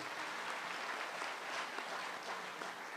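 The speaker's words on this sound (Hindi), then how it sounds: "इनके लिए बहुत सी तालियाँ।" Sustained audience applause at a live comedy show in Muscat, a dense, even wash of many hands clapping at moderate loudness with no talking over it.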